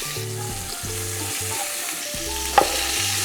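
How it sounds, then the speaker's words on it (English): Seasoned beef ribs searing in a pressure cooker, a steady close sizzle and frying crackle holding throughout, with a brief sharp clink near the end over music. "Season them generously on both sides with salt and pepper, then sear"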